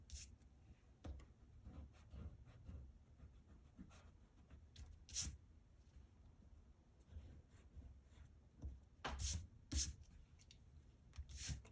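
An eraser rubs out pencil construction lines on paper in quiet, irregular scrubbing strokes, with a few louder swipes in the middle and near the end.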